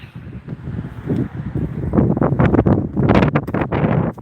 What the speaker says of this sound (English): It's a breezy day.